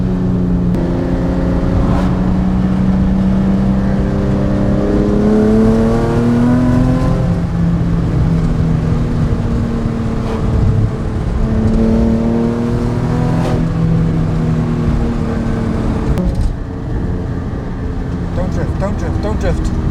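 A Nissan 350Z drift car's engine hums steadily under driving, rising and falling in pitch as it revs, heard from inside the car while a person talks over it throughout.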